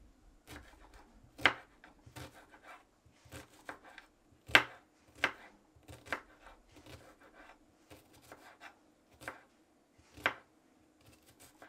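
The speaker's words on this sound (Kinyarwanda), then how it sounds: "Tangire dukata igitunguru cyacu." A knife chops an onion on a board while cooking an inexpensive spinach dish, giving a steady series of quiet, close cuts at an even pace, with a few sharper strikes among them.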